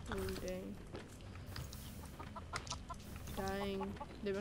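Minecraft chickens cluck in short repeated bursts at the start and again near the end, with game sounds and talk going on underneath.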